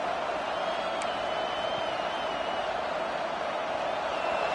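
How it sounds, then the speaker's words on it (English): A stadium crowd roars at a Clemson football game, a dense, continuous wall of noise that stays loud and even from start to finish. "The roar of the crowd trying to fuel this defense to keep them pinned in their own end."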